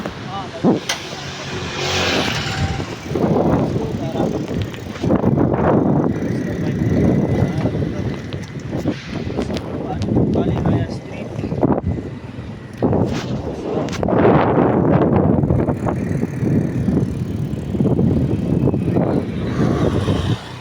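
Outdoor bicycle ride with steady wind and road rumble rising and falling around the rider, passing traffic nearby, and a voice talking over it at times.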